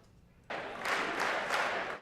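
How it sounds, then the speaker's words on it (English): Republican lawmakers applauding President Trump's speech in a large chamber, a sudden dense wash of clapping that swells and holds steady for over a second before fading, loud and full. "the speech was met with applause from Republicans"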